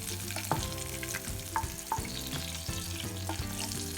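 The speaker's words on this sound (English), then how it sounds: "and then you just try and stir it." Ripe plantain mash for Ghanaian etor is stirred as hot oil is added bit by bit, giving a steady oily sizzle with repeated scraping strokes of the spoon, close and moderately loud, with no voice.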